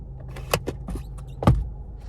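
Power sunroof of a 2015 Toyota RAV4 XLE closing on a one-touch control inside the cabin: a few soft clicks and short mechanical thumps, including a firmer latch near the end, quiet and close.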